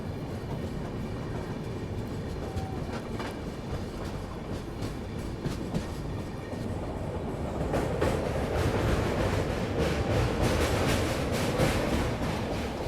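Howrah-Puri Dhauli Express passenger train rolling steadily on its rails, a continuous loud rumble with rhythmic clicking of wheels over track joints that swells louder in the second half; no talking.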